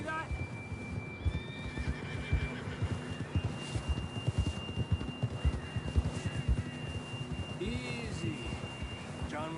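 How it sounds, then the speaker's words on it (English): In the Red Dead Redemption 2 western game, a horse whinnies loudly twice, near and clear, over a steady clip-clop of hooves on the trail, with a low background drone and no talk. "John was riding that horse when we left Blackwater."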